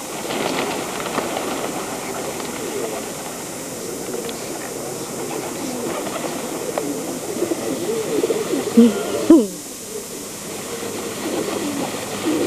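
A large flock of pigeons at a station gives a steady murmur of cooing and fluttering against a rail-side background, with a brief louder bump near the end and no speech.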